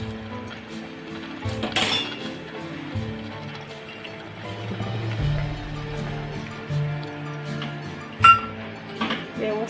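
A glass of milk with milk powder is stirred with a spoon, giving a couple of clear clinks against the glass over a quiet background.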